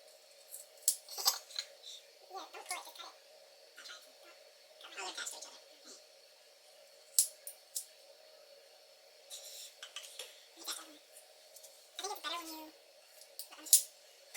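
Scissors snip through hair locs close up in a series of short, irregular crisp cuts and rasps, quiet and without talk.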